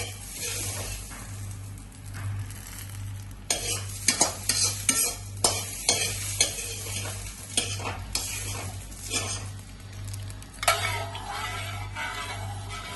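Tempering spices frying for dal on low flame: a quiet steady sizzle with a burst of rapid spoon scrapes and taps against the pan in the middle, then calmer stirring.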